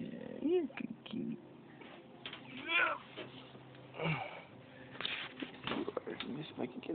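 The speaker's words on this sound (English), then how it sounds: "you're a good kitty" A cat at a door gives several short, rising meows interspersed with a person speaking softly nearby, the cries fairly quiet and close.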